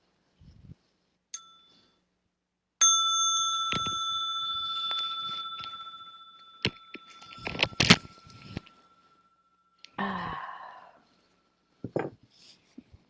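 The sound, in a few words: small meditation bell being rung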